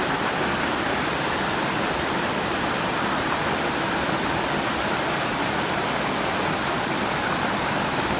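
Steady river water rushing downstream in Grenada, a dense, continuous broadband wash with no pauses, close and fairly loud, with no voices over it.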